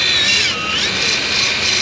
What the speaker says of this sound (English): So you just drill right through the center of it.